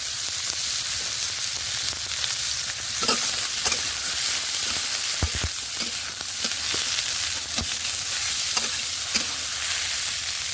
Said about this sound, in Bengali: তেল কড়াই গরম হয়ে গেছে, এর মধ্যে দিয়ে দেবো কেটে ধুয়ে রাখা উচ্ছে আর আলু